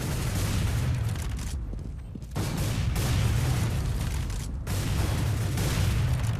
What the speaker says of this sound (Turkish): Şuraya granatı bırakalım